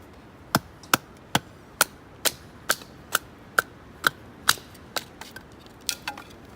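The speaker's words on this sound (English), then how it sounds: "That's the sound of good dry wood." A dozen sharp, cracking strikes of a Fallkniven F1 knife batoning dry wood land in a steady rhythm, each a crisp snap of splitting dry wood, close and clear with no talking.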